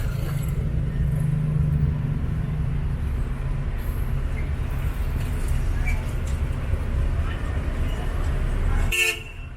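Car horns toot in a stuck rush-hour traffic jam on H. Cortez Street, Mandaue City, Cebu, Philippines, with loud steady engine rumble, a sustained honk early on and a sharp toot near the end.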